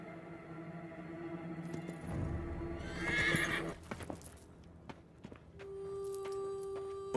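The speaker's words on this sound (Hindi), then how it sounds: "सरकार, लगता है अपना घोड़ा मैसूर से पहले नहीं रुकेगा।" A horse whinnies loudly in a dramatic period-film scene, with hoofbeats and scuffling footsteps, then a sustained tonal sound and scattered clicks follow, close and prominent.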